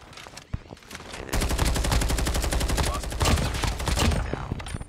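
Sustained rapid automatic fire from a CR-56 AMAX rifle in a video game, loud and close, a long continuous burst after a few scattered shots at the start.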